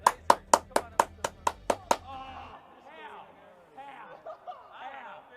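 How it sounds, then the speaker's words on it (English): A short round of clapping from a small group of friends, about nine sharp, evenly spaced claps over two seconds, followed by quiet chatter and light laughter. "Cheers! Round of applause,"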